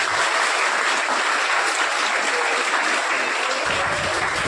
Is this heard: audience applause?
yes